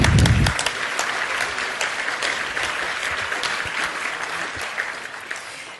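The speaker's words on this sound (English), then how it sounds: "Let's give him another round of applause" Audience applause at an economic summit keynote by California's lieutenant governor: a dense, steady wash of clapping from a large crowd, loud and sustained for several seconds after a brief opening thump.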